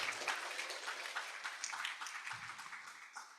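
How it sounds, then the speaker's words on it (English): A seminar audience applauds a speaker at an international civil-engineering seminar and awards event. The clapping is steady and fairly quiet, with a murmur of voices underneath. "Please give applause to Mr. Tarmizi, everyone."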